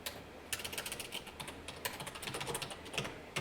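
Rapid keystrokes on a computer keyboard while entering WordPress REST API code, an uneven patter of close, crisp clicks with occasional sharper key hits and no voice.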